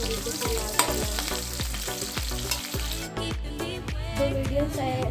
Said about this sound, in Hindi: प्याज को अच्छी तरीके से लाल करना।